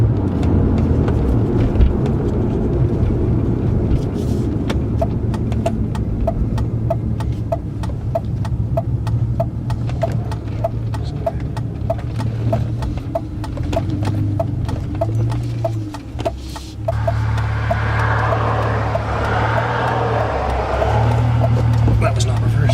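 A BMW E46 325i drives slowly and turns, looking for a driveway to cut into, its engine a low steady hum with a rhythmic ticking throughout. A voice talks over it, and the sound shifts near the end as the car changes direction.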